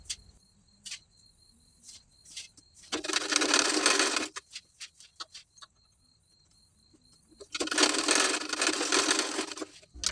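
Sewing machine stitching the main tucks of a blouse, two steady whirring runs of a second or more each, close, separated by quiet ticks and clicks of the mechanism.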